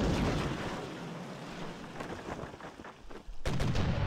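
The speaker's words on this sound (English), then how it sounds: "let's go for the grape shot" Grapeshot cannon fire from a sailing ship in the PC game Sid Meier's Pirates!, a rumbling barrage of repeated booms over ocean noise that dips briefly into near silence, then surges back loud.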